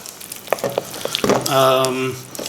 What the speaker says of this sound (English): I'm going to mix this flour in